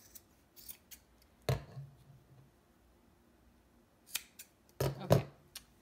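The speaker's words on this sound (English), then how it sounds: "I take it and I will cut off" Scissors snip off excess sock fabric while a sock gnome is being made, with a few crisp cuts in separate bursts around the middle and near the end, close and fairly quiet, no talking.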